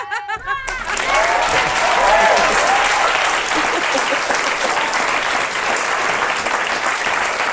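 Audience applause at a TED talk on kids helping run their own schools, a loud sustained crowd ovation with a few cheers that swells quickly after a brief opening moment and holds steady throughout.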